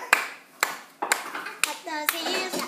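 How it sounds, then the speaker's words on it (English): Hands clapping in a home with a child present, five sharp separate claps spaced about half a second apart, with a voice chattering between them. "Clap those hands."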